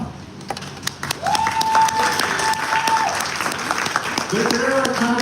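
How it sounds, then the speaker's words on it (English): Scattered clapping and light applause from a crowd at Geneva Watch Days 2024, mixed with people talking and calling out nearby, with uneven bursts rather than a steady roar. "Yes, you can clap."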